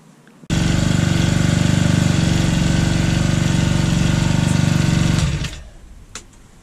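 A Honda GX22 brushcutter engine starts abruptly and runs at a steady, loud, buzzing idle for about five seconds before cutting off and winding down, close to the microphone with no talking.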